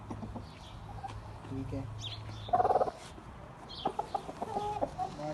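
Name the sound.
chickens and roosters clucking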